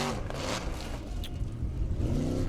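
Engine of Bomban, Ingimar Björnsson's formula offroad car, revving at an Icelandic Formula Offroad round, a steady raw roar rising near the end over a broad, noisy outdoor background.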